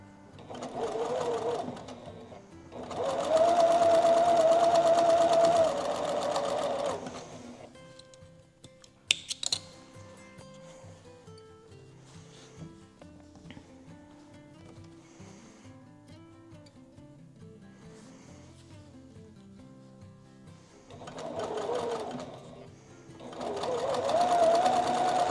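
Domestic sewing machine chain piecing quilt pieces for a flag quilt, whirring in two long steady bursts at the start and end, with quieter clicks and handling noise in between.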